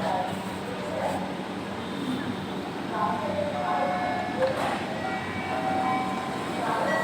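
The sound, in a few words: metro rail train ride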